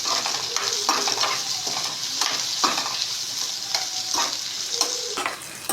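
Tomato pieces are stirred into egg masala gravy frying in a pan, with a steady sizzle throughout. Repeated scraping strokes of the spoon sound close and loud, and no one speaks.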